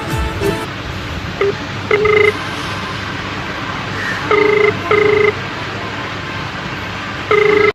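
A phone call is placed: quick keypad dialing tones at the start, followed by a few repeated ringback tones spaced a couple of seconds apart over a steady background hum.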